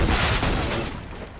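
A flashbang grenade goes off in CS:GO on the de_dust map during a competitive esports match, heard as one loud, broad burst that fills the whole clip and then slowly fades away.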